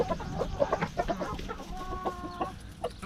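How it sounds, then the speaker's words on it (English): Several backyard chickens cluck and murmur in short bursts while scratching through a pile for worms in a chicken run, close by with steady outdoor ambience. "Got my new chickens over here digging through this one."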